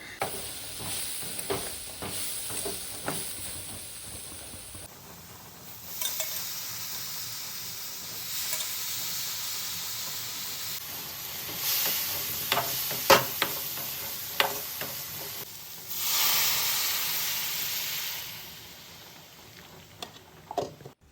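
Spices fry in a pan for a vegetable kurma while being stirred, making a soft sizzling hiss with intermittent scraping and clatter of the spoon, rising in bursts of steam-like hissing, moderately close and with no talking.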